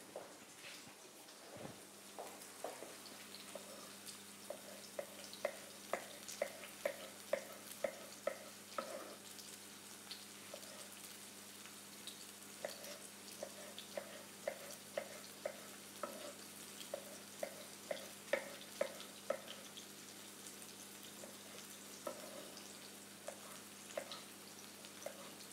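Onions sizzle steadily in oil in a pan, with a continuous frying hiss and frequent short crackles and pops, occasionally in quick bursts, and no talking over them.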